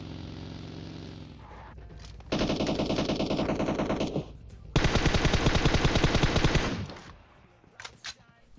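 Rapid automatic gunfire between players in PUBG Mobile, two loud sustained bursts of machine-gun fire separated by a short pause, followed by a few scattered single shots.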